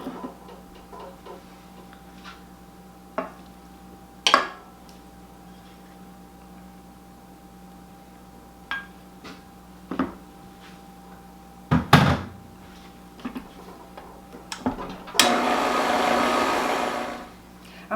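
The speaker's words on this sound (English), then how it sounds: "then we're going to add the butter and mix that up" Butter is mixed into cake mix in a bowl for a potluck dessert, heard as scattered knocks and clinks of utensil against bowl followed by a few seconds of steady mixer whirring at the end, no voices.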